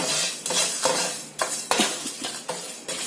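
Dried red chillies and spices dry-roast in a pan on a stove, stirred with a utensil in repeated scraping strokes against the metal, close and clear with no talk.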